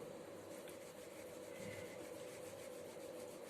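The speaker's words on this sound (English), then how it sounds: "I will grate and show you" Homemade mozzarella cheese rubbed against a grater, a steady close rasping scrape that continues without a break for several seconds, quiet overall and with no talking.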